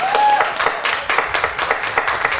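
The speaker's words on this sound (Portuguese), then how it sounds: "Vamos aplaudir?" Applause at a reading event for two guests, Sebastião and Isabel, with sharp individual claps in an uneven rhythm, fairly close and moderately loud.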